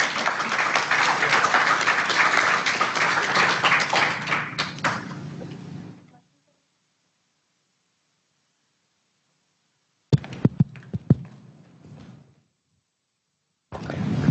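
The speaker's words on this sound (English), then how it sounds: "Y'all can clap if you want." An audience claps after a tech talk, a dense burst of applause for about six seconds that fades out, then silence, followed by a few scattered taps and handling knocks.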